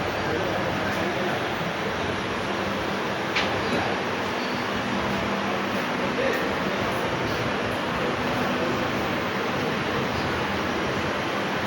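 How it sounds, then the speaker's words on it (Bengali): A passenger train pulls out of Mariani station bound for Jorhat, a steady, loud broadband rumble of wheels and carriage noise running continuously throughout, with faint clicks on top. "স্টেশন থেকে ছাড়লো, যাচ্ছে এখন যোরহাট স্টেশন।"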